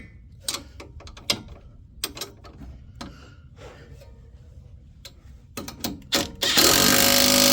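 A hand ratchet tightens a nut and washer on a 2-inch leveling kit for a 2020 4wd Silverado, giving short bursts of sharp clicking in irregular runs, with a louder rushing noise at the end.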